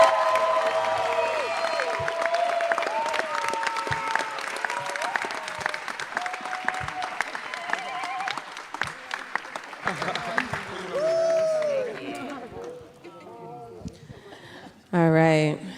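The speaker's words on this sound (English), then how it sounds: "Give a round of applause for Jonah Sato." Audience at a youth poetry slam finals breaks into sustained applause and cheering for a poet, dense crackling claps with whoops, tapering off as a host speaks and a final shout rises.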